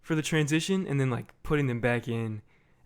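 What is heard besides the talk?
None of the usual background noises is heard.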